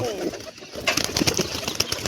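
Pigeons and their grown squabs crowding onto scattered peanut feed: low cooing, wing flutters and quick pecking taps close by, with a voice speaking briefly at the start.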